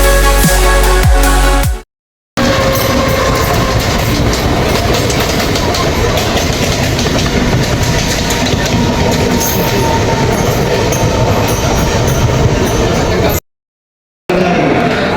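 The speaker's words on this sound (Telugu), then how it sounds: "మనం ఇప్పుడు నాసిక్ రోడ్ రైల్వే స్టేషన్లో ఉన్నాం" Train at Nasik Road railway station: a loud, continuous rumble of rolling wagons with rhythmic clickety-clack and metallic squealing, close by, briefly cut by gaps.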